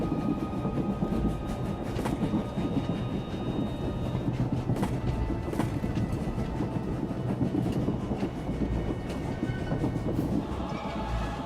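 A moving train in Star Wars: The Old Republic rumbles steadily for the whole stretch, with a dense low roar, rhythmic clickety-clack of the wheels and occasional sharp metallic knocks, loud and close with no voices.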